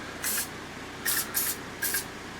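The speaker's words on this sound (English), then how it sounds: "Over there is an area that needs more love with the spray" An aerosol spray paint can hisses onto a Warhammer 40k display board in four short close bursts, one single and then three in quick succession, with no talk.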